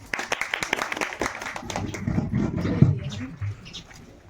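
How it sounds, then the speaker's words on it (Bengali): An audience at a Swami Vivekananda birthday anniversary function breaks into a brief burst of clapping, a few sharp claps that quickly thicken into a muffled, rumbling round of applause before fading, with no speech. "হাততালি।"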